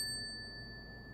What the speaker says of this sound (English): I have this little bell right here